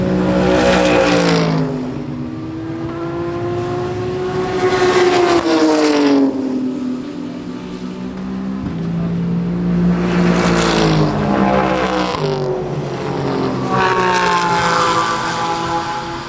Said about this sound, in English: There's race cars. And noises!